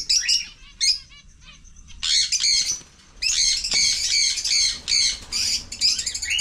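Baby chicks at a farm resort in San Juan, Batangas, chirp and cheep in shrill bursts, loud and close, in a steady chatter with brief gaps.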